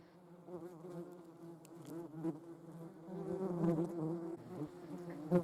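Hornets and yellow jackets crawl over bare hands, giving a continuous close buzzing. The droning hum rises and falls in intensity as the insects shift about, with no talk.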